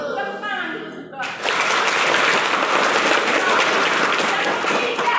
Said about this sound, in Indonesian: Tepuk tangan dulu saudara.